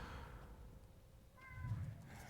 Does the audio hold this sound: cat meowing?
yes